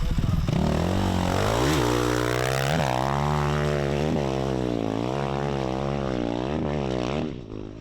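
A KTM dirt bike pulls away from a desert race refuel stop, its engine loud and near, revving hard through repeated rising and falling pitch sweeps as it accelerates through the gears before fading slightly at the end.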